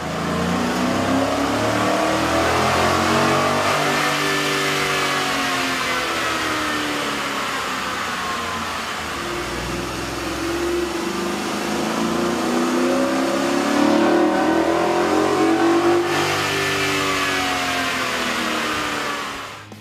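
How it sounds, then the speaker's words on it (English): A Ford F-150 5.0-liter V8 fitted with a K&N cold air intake revs repeatedly on a dyno. Loud, close engine tones swoop up and down in long sweeps, with no talk. "we ran the vehicle on the dyno to test the sound comparison versus the stock intake"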